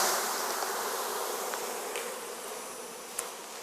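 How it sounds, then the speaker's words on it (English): Honey bee workers shaken off a brood frame swarm around in a dense, steady buzz, close by and continuous, with a few louder individual bees passing near. "so I'm going to shake off all the workers"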